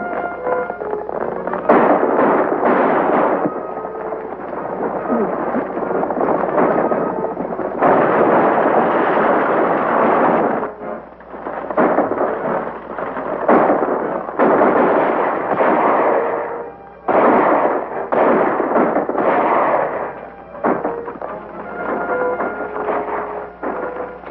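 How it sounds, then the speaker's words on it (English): Gunshots crack again and again in a 1941 western, some in rapid bursts and some single, across a long stretch of shooting with echoing reports and no talk over them. "Whoever's doing that shooting is helping us."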